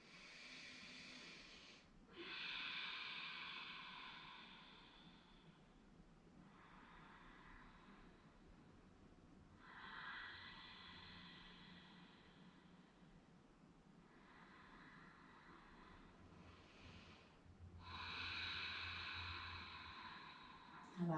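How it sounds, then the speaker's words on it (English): Slow, deep breaths during a restorative yoga session, each long inhale and exhale a soft, close hiss, about four cycles with short pauses between them. "Taking 4 more breaths here."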